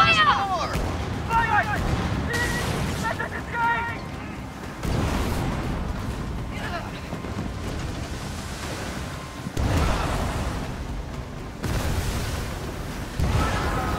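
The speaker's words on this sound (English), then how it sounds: "Volley fire, Captain! Ready to fire!" Ship cannons fire volleys in the Skull and Bones naval video game, with several heavy booming blasts spaced across the stretch amid crashing waves and roaring wind.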